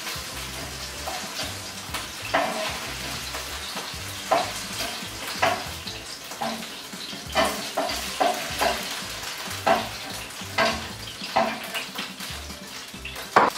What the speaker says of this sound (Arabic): وفي نفس المقلة غادي نشحرو فيها هذوك الخضرة